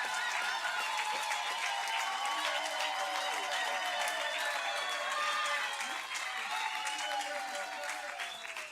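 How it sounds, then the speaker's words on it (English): An audience at South Africa's national exam results announcement claps steadily and warmly, a dense sustained patter of many hands that fades slightly at the end, with faint voices underneath. "we applaud you."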